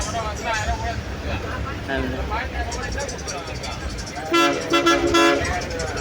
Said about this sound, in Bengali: মানে কানের করে গিয়ে হর্ন বাজাচ্ছে এমনি বাসের ড্রাইভার